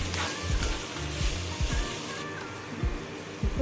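Ground coconut fries in a pan for a tapioca dish, giving a soft, continuous sizzle, with a few faint clinks and scrapes underneath.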